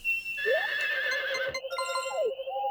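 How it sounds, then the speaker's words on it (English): A horse whinnies when called in Harvest Moon 64, a bright rising-and-falling neigh heard twice, near and clear, with synthesized game tones running underneath and no talk. "Whoops, I called my horse, and he is stuck forever."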